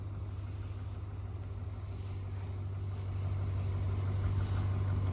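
A 2004 Cadillac CTS-V engine runs at a steady low rumble, rising slightly in loudness as light throttle is applied, with no talk over it.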